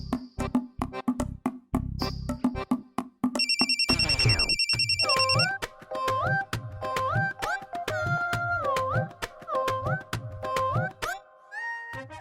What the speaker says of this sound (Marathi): चिन्या बी फोन उचला ना झालाय